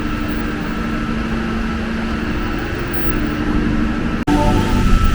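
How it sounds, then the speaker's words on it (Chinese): Ambience on a Sydney train station platform, a steady low mechanical hum and engine drone with faint tonal whine, a sharp click near the end followed by slightly louder rumble; no speech. "这就是 火车月台"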